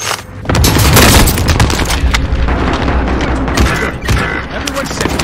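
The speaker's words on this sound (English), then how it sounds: "Enemy cluster strike! Watch your heads!" Heavy booming cluster-strike explosions in Call of Duty Warzone on Rebirth Island, a loud rolling blast followed by crackling debris and scattered gunfire, with game voices calling out underneath.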